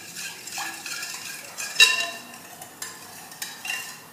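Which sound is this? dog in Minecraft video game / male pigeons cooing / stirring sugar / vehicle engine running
stirring sugar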